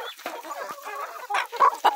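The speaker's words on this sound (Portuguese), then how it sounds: "Olha outra galinha grande aí." A large hen clucks close by in a few soft, irregular bursts, growing a little louder toward the end.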